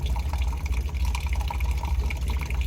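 Water flushing through the heater core of a 2001 Ford F150, a steady, dense rushing gurgle of liquid that stays loud and even throughout, with no voices.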